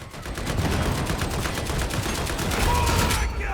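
Sustained rapid gunfire from a Veteran's gun in the co-op shooter Warhammer 40,000: Darktide, a dense fusillade of close, loud shots rattling continuously for several seconds.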